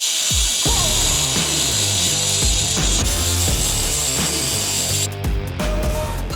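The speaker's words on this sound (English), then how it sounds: "Let's get to grinding. So I'm gonna use my Dremel that I have here. It's this like high powered one." A high-powered Dremel rotary tool grinds on a Harley Sportster flat tracker build, a loud, continuous whining buzz with rattling, gritty contact that holds steady for several seconds before briefly dropping near the end.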